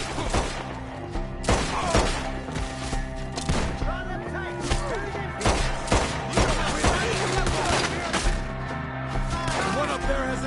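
Gunfire in a Red Dead Redemption II shootout against enemies up in the trees, with sharp repeated shots and bursts over a dense game soundscape.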